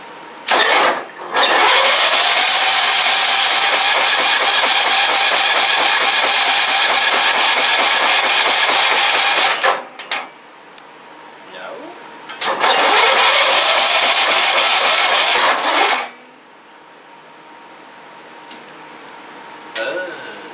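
Engine of a wrecked Craftsman riding lawn mower, fitted with a swapped pulley, roars loudly and steadily for about ten seconds, dies, then fires up again for a few seconds before cutting out to quiet.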